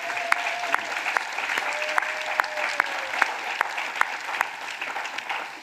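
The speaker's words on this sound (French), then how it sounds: "Let us clap for Jesus." A church congregation claps for Jesus, with dense, steady applause and regular, rhythmic claps standing out above the crowd throughout.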